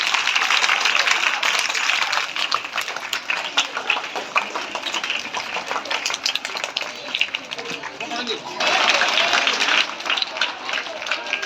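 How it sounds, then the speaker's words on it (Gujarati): Applause from an audience at a primary school's Republic Day celebration in Gariadhar, Gujarat: dense, steady clapping from a large crowd lasting throughout, swelling louder near the end. "તો આપણે સૌ તાળીઓ."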